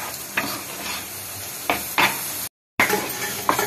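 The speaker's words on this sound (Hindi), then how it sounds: "थोड़ी देर और पकाएंगे हम, इसको ऐसे हिलाते हुए हमने पकाना है ताकि सारा कच्चापन बेसन का" Besan being stirred and roasted in a pan for barfi, with a soft continuous sizzle and several distinct scraping strokes of the spoon against the pan, close and moderately loud, broken by a brief dropout.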